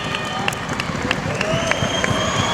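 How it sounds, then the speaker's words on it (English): Crowd applause and cheering at a Super G event, a steady wash of clapping with sharp individual claps, continuous throughout and heard under a commentator's voice. "And she is out. And a big round of applause from the crowd."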